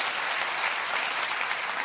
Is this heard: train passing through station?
no